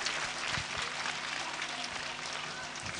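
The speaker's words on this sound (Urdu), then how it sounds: "ذرا حوصلہ افزائی کیجیے تالی بجا کر بچوں کی" Parents clap for children at a school annual function, a soft, steady wash of applause with a few sharper individual claps, fairly distant and without talk.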